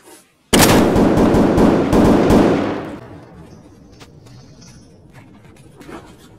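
Sudden burst of rapid automatic gunfire in Escape from Tarkov, loud and close for about two seconds, then echoing away into quieter ambient game noise with a few faint distant cracks.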